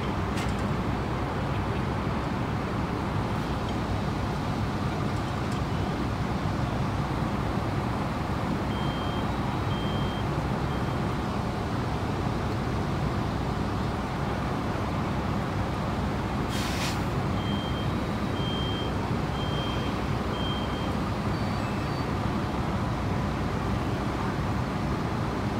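Fire truck moving at a two-alarm structure fire, rumbling engine under steady roadway noise with intermittent reversing beeps, moderately near.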